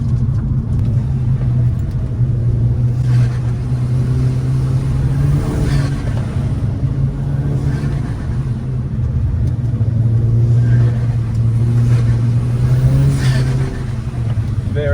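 A tuned Volkswagen Golf GTI Mk5 with 260,000 km, making 260 hp, driven on a damp winding road with a hairpin, its engine rumbling steadily and revving in rising and falling surges for fifteen seconds from inside the car.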